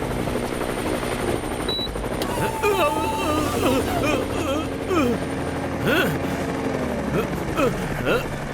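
Cartoon helicopter from the Motu Patlu animated series flying overhead, a steady rotor and engine drone running throughout beneath busy animated voices and background effects.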